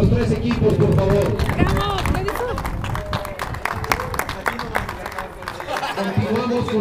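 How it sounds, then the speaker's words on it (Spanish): Crowd clapping for the three teams at a 2022-2023 award ceremony, steady applause mixed with loud hubbub and voices throughout, rising and falling across the whole stretch. "Un aplauso para los tres equipos"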